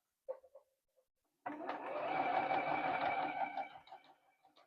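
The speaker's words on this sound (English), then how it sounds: "I'm going to sew a 1/4 inch straight down." A quilting sewing machine runs a quarter-inch straight seam down a quilt strip, starting after a few soft clicks and then whirring steadily for about three seconds before slowing down; quiet overall.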